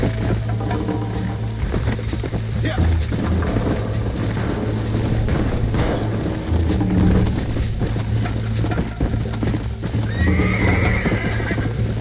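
Horse in the Red Dead Redemption video game on Xbox Series, neighing loudly and clip-clopping at a gallop over a steady in-game ambience that runs throughout.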